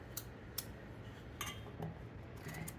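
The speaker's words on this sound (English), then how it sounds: "I typically just slice my potatoes twice, and then I chop them" A knife chops potatoes on a cutting board for potato soup, a handful of faint, sharp taps spaced irregularly over a quiet kitchen background, no speech.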